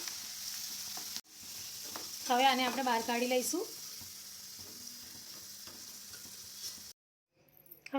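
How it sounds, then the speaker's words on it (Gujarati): Potato peels frying in hot oil in a pan over a medium gas flame give off a steady close sizzle. It briefly swells louder while a voice speaks over it, then cuts off abruptly near the end. "હવે એ જ રીતે આપણે બધા જ છોતરાને તળી લઈશું."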